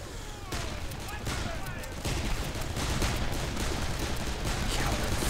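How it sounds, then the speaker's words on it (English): Gunfire in the video game Darkest of Days, with sniper shots amid a battle: dense crackling volleys of shots run steadily over a constant noisy roar, fairly loud throughout. "Watch for sniper fire."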